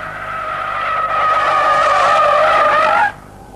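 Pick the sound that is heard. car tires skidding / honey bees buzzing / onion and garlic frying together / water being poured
car tires skidding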